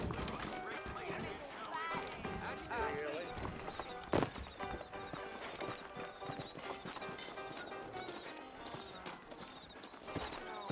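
Horse hooves clip-clopping in the Red Dead Redemption video game, steady trotting footfalls under continuous game music and ambience, with one brief louder knock partway through.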